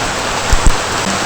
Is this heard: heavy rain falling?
yes